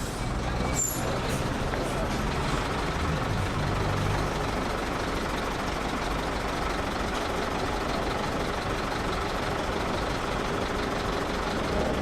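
Congested road traffic with trucks and buses idling and rumbling nearby, a dense, continuous engine drone with a brief hiss like an air brake near the start.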